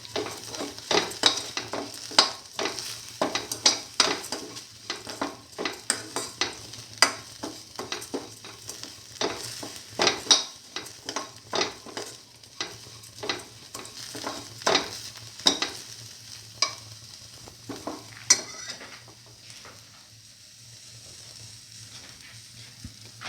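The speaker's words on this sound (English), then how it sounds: "Thoroughly soft and mix with the pineapple pieces." Pre-roasted vermicelli pasta is stirred with pineapple pieces in a pan, giving a steady run of sizzling, scraping strokes in an irregular rhythm over a low hum, easing off toward the end.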